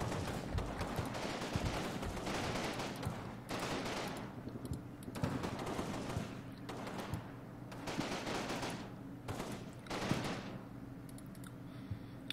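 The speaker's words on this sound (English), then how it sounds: "you see that the spotting shots for the artillery is coming down" Artillery spotting shots land in the WWII strategy game Combat Mission Fortress Italy, a steady wash of distant battle noise with repeated muffled bursts and crackling impacts, fairly faint throughout.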